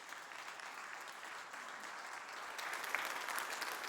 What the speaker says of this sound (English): we really owe a great round of thanks, applause for Barb, because she's invested.